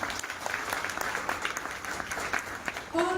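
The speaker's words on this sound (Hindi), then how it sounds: "एक बार शानदार तालियां आप सबके लिए होनी चाहिए" A crowd at an IMC business plan event in India claps steadily in a dense, even round of applause, and a voice starts to speak just as it ends.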